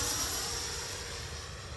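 A Freewing J10 90mm RC jet on its maiden flight makes a pass, with a steady, loud, broadband ducted-fan roar that eases off slightly over the short moment.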